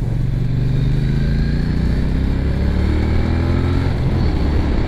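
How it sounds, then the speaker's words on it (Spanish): Triumph Bonneville T120 twin-cylinder motorcycle engine heard from onboard while riding on interurban roads and twisty curves, a loud continuous throbbing drone with rising pitch as it accelerates, without talk. "de esa sensación y sonido bicilíndrico"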